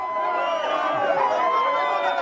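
Protesters in a street demonstration over a squat jeer as security forces arrive, a dense continuous crowd roar with overlapping shouting voices at steady loudness throughout.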